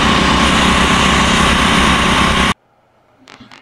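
A gasoline generator engine runs loud and steady at close range for about two and a half seconds, then cuts off abruptly, leaving near silence with a faint brief noise at the end.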